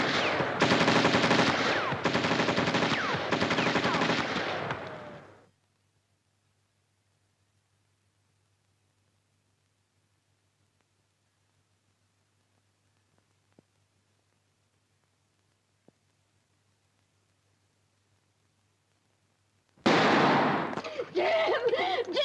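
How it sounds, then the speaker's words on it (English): Film gunfire aimed into a tunnel, a dense, loud burst of rapid shots lasting several seconds, then near silence, then another heavy burst starting near the end. "I'll shoot him out from this end."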